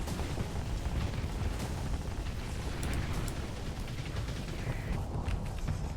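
Spaceship weapons fire in the space combat game Starsector: a dense, continuous rumble of booming blasts and bursts, loud and steady throughout with scattered sharper pops on top.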